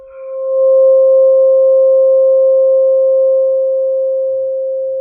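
A steady, pure 528 hertz solfeggio sine tone swells in and holds for several seconds alone, softening slightly toward the end.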